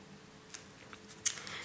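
A few quiet snips of scissors cutting a paper checklist in a planner, soft and close, ending in a sharper final cut.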